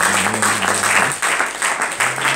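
A congregation at a French-speaking church service gives loud, continuous applause, the clapping thick and close, with low sustained tones humming underneath.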